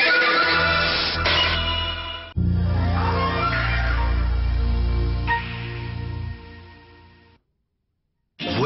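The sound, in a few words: racehorse neighing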